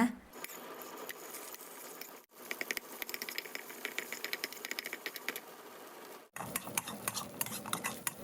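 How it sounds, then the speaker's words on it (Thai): Shrimp paste and red curry paste stir-fried in a few spoonfuls of oil over low heat give a steady scraping and clinking of a utensil against the pan, with two brief pauses, fairly soft and continuous. "แล้วนำกะปิและพริกแกงเผ็ดลงไปผัดให้หอม"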